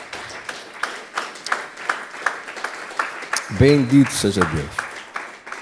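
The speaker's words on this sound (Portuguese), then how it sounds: "Damos um aplauso para este Senhor maravilhoso." A church congregation claps together in steady, scattered applause throughout, with a voice speaking briefly over it near the end.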